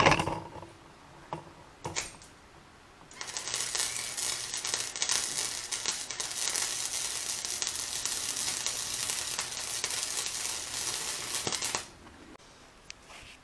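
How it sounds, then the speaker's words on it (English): Tack welds laid on scrap metal while repairing a broken trailer: a loud, steady crackling sizzle runs unbroken for about nine seconds, with a few brief sputters before it starts and quiet after it stops. "I'm gonna put a couple tacks in right there"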